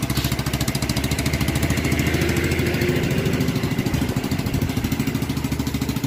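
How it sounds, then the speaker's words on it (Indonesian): A Yamaha Mio Sporty scooter engine idles steadily just after an electric start, a close, even putter with a regular pulsing beat and no voices. "Coba kita pencet starter dulu."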